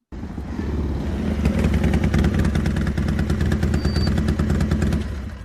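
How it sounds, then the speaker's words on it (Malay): A motorcycle engine arrives outside a house for a radio drama, its steady mid-pitched rumble coming up quickly and holding loud and close for several seconds before easing slightly at the end. "Bunyi enjin motosikal"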